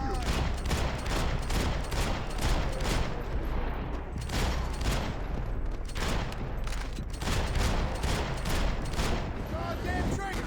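Dense, continuous gunfire from the Max Payne 3 video game, rapid loud overlapping shots and bursts filling the whole stretch with barely a pause.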